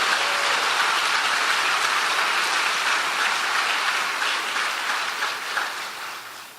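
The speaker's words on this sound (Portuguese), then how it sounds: "posso ouvir de você um grande aplauso a essa graça de Deus através da pessoa do Senhor Jesus" A church congregation claps together in a dense, steady wash of applause that holds evenly and then fades toward the end, with no voices over it.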